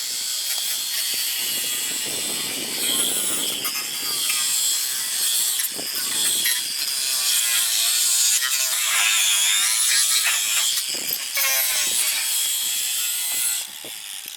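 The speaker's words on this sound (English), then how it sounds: "undo these 2 bolts right here. Just loosen them" A hand ratchet clicks in quick rapid bursts while undoing bolts on the intercooler and electric fan area of a Mazda RX7, close and loud in a garage, with no talking.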